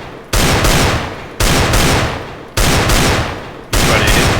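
Four sharp video game gunshots ring out at roughly one-second intervals, each loud burst trailing off in a decaying echo, during reflex shooting practice on the Aim Botz map.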